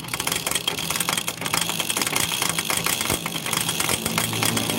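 A motorcycle engine idling after an engine overhaul, a steady, loud mechanical running sound with a slight knocking rattle throughout, close by and alone.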